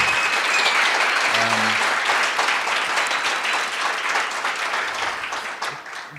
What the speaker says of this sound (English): join me and give a round of applause to the eSquared team at large